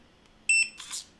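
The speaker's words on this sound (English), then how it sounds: "There's a good beep and a bad beep." A single short electronic beep comes from an RFID cabinet lock as a good read, faint and clear in a quiet room.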